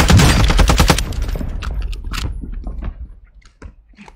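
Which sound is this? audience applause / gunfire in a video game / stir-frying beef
gunfire in a video game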